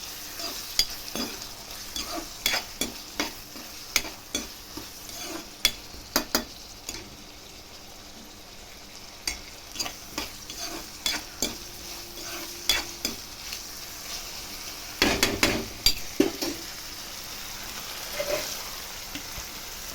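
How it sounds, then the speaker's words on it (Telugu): Tomato pieces frying in a pan for a sorrel curry, a soft continuous sizzle broken by many rhythmic spoon-against-pan scrapes and clinks, with a louder burst of stirring near the end, no speech. "ఇప్పుడు టమోటాలు వేసుకున్నామండి. టమోటా ముక్కలు ఒకసారి మగ్గనియాలండి."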